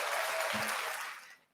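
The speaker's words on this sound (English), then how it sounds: "Give her some applause." Brief burst of applause from a small gathering for an event manager on a podcast, a dense clatter of claps that tails off quickly into silence.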